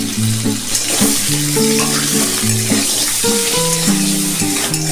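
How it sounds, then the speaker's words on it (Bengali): Potatoes frying in mustard oil with salt and turmeric in a wok, a loud, dense sizzle with stirring scrapes, continuous throughout beneath background music. "আমার আলু ভাজা হয়ে গেছে আমি একটু লাল লাল করে ভেজে নিলাম"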